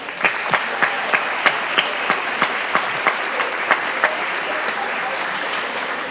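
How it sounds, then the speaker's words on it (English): Students stand and applaud themselves at a senior presentation event, a moderate crowd clapping steadily with some loud individual claps ringing out in a regular beat over the general patter. "give yourselves a round of applause for being so awesome at this"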